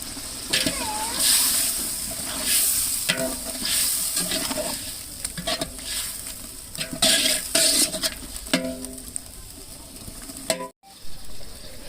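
About 900 grams of tomatoes sauté in a pan for a 2 kg chicken biryani, a loud continuous sizzle with stirring scrapes and clatter throughout.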